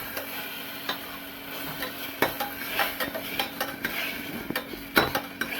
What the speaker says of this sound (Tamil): அரைச்ச விழுத அதில் சேர்த்துட்டு கிண்டுறோம். கிண்டிக்கிட்டு இருக்கும்போதே அந்த வெங்காயத்தையும் போட்டு வதக்குறோம்.